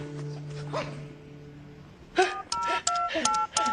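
A short series of telephone keypad tones beeps in quick succession after a brief stretch of faint background sound.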